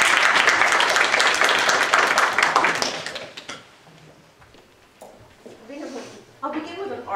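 Audience applause welcoming a speaker at a talk on Christian marriage, loud dense clapping that fades after about three seconds, followed by quieter room sounds and a voice beginning to speak.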